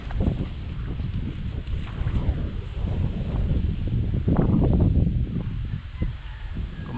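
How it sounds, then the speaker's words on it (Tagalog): Wind blowing outdoors on the water during a turtle hunt, a constant loud buffeting rumble against the microphone with no clear breaks. "Kumalma ka naman, hangin."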